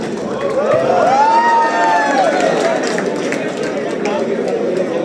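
An audience cheering and whooping at a hackathon prize distribution, with continuous crowd noise, a few rising shouts and chatter throughout, fairly loud and close.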